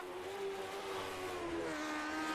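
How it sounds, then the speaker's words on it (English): Lotus 49 vintage Indy race car in iRacing, its engine holding a steady high-pitched drone throughout, with gradual pitch shifts as it runs at speed. "Here's Patrick Byrne, I believe sporting the National Racing Network house car here in the Lotus 49. Listen to the sound of that car."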